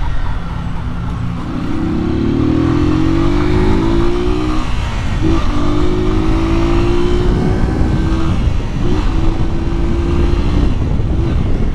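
A 2008 Honda Fan 125 motorcycle engine revved repeatedly, each rev rising in pitch and holding before dropping back, three or four pulls over a loud, close, steady idle.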